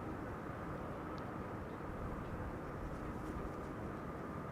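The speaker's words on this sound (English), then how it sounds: "ITA Airways Flight 114 arriving from Milan. Bombardier C-Series 100." An ITA Airways Bombardier C-Series 100 arriving at Amsterdam Schiphol makes a steady, broad jet roar that stays constant throughout the short stretch, with no voices.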